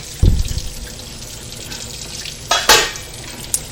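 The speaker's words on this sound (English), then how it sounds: "So I just run it under cold water." Cold tap water runs in a steady hiss over a corned beef in a sink, broken by a few brief splashes and thumps.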